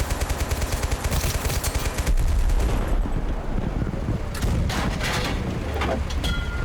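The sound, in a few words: gunfire in video game Total Conflict: Resistance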